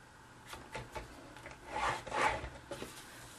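A scoring tool drawn along cardstock gives soft, dry rubbing strokes, with two longer, louder scrapes in the middle and quieter passes around them. No one speaks.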